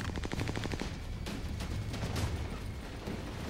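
Rapid automatic gunfire from the video game Army of Two: The Devil's Cartel, dense loud bursts of shots with sharp cracks, continuous for a few seconds with no talking.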